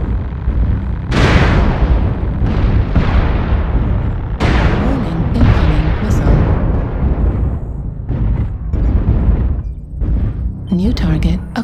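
Repeated heavy missile explosions boom in MechWarrior Online combat, loud and close, arriving in quick irregular bursts with rumbling tails and brief gaps between impacts; a synthetic voice makes announcements between them.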